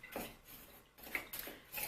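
A utensil stirs hotteok dough in a bowl, giving soft, close scraping and clinking strokes in a quick, uneven rhythm.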